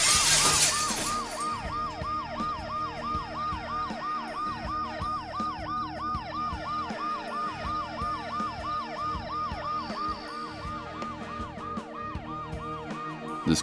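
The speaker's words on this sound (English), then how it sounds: "The noise the ambulance makes will cover the sound of the glass breaking." In the video game Dead Synchronicity, glass shatters sharply at the start, then an ambulance siren wails in a steady, rapid up-and-down cycle that continues loudly throughout.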